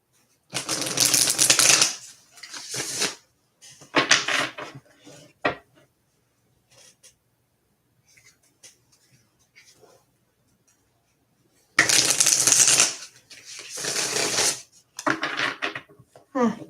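Tarot and oracle cards being shuffled in two loud bursts of riffling and clattering, with a quieter stretch between them that holds only faint handling noises.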